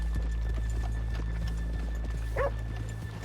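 Horse hooves clip-clop steadily through a steady background in Red Dead Redemption 2, with a short whinny breaking in near the end; a faint dog bark also appears.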